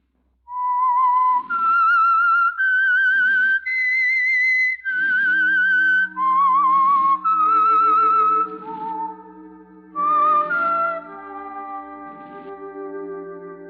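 A lone whistler carries the eerie theme tune of The Whistler radio program in long, clear, sliding notes that climb and fall in a slow melody, with a soft orchestral backing joining beneath.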